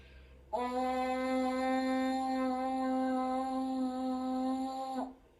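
A single sustained buzz through a French horn mouthpiece holds one steady, reedy pitch for about four seconds before stopping abruptly.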